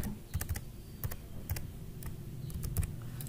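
A mobile number is typed on a computer keyboard in a handful of quick, sharp key clicks spaced irregularly over a low room hum, near and fairly quiet.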